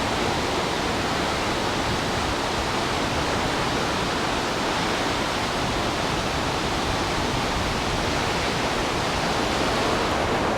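Waterfall at a Twilight filming location, a steady dense roar of falling water that fills the scene loudly and evenly without pause, with no voices.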